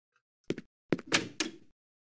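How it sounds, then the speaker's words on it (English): A locked door in the horror game IMSCARED is tried: a short burst of handle rattles and several close, dull thunks as it refuses to open, with no talking. "Door is locked."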